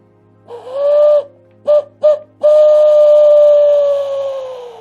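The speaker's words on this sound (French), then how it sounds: "Au loin, nous entendons le chant de Maître Hibou" An owl hoots in a quiet night setting: a long hoot, two short ones, then a sustained, gently falling call, clear and fairly loud.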